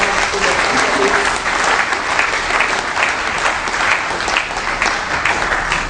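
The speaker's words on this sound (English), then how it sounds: "give a big round of applause to all our brothers and sisters in the company" Sustained, dense applause from a large audience gathered for an event honoring Ebola containment volunteers, steady and loud throughout with no pauses.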